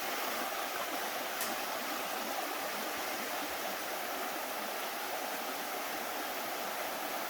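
Continuous rushing of the flowing Jessup River, a steady broadband wash with no voices.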